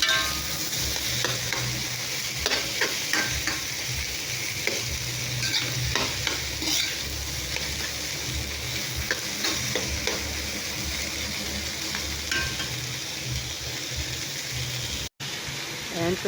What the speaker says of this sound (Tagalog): Halo-halo lang tayo.